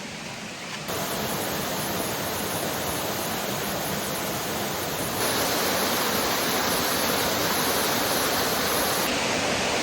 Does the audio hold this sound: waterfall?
yes